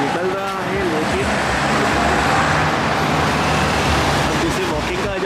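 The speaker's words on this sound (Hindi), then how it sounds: "यहाँ पे आप देख सकते हो कि किस स्पीड में गाड़ियाँ निकलती है" Steady road traffic rushing past at speed beside a pedestrian crossing in Dubai, a continuous loud roar of cars and heavy vehicles with no breaks and no talk.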